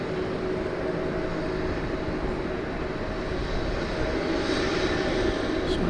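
At night at DFW Airport, an airplane taxis toward runway 18 left for departure, its engine a steady, fairly distant jet drone holding an even hum throughout.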